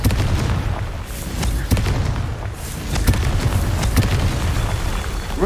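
Explosive Confringo fire spell bursts in a Merlin trial in a video game, a run of loud booms and blasts with bright cracks over a dense rumbling bed, repeated every second or so.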